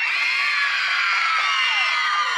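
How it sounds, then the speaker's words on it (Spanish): Loud crowd at a carnival contest vote shouting, whooping and cheering together in a dense, sustained roar of many voices, including children, throughout. "Gritos para el primer lugar."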